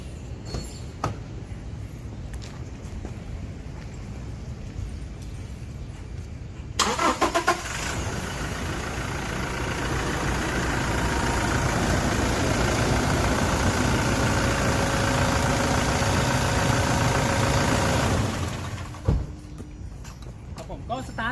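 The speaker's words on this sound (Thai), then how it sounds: "เดี๋ยวเราไปลองสตาร์ทดูนะครับว่า จะสตาร์ทติดปกติดีไหมครับ" A Toyota Fortuner starting after a battery change: quiet ambience, a short cranking catch, then the engine settles into a steady, fairly close idle that runs for about ten seconds before dropping away.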